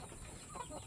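A young Bangkok fighting rooster, still moulting its feathers and kept in a box, gives a quiet, brief cluck, faint and close against a soft background hiss.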